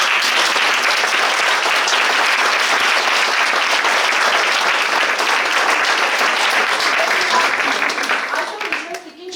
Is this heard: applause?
yes